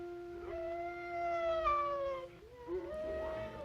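Hounds howl in long, wavering tones in the 1932 film The Most Dangerous Game, several voices overlapping and sliding in pitch at moderate distance, with a fresh howl rising near the end.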